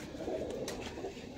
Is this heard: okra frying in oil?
no